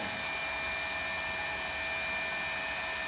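A hot air welding gun runs for welding vinyl sheet flooring, making a steady, close, hissing airflow like a hair dryer that holds even throughout.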